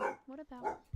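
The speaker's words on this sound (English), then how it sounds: "Sorry about my dogs." Pet dogs barking indoors at a rural home, several sharp close barks in quick succession, with a person speaking briefly among them.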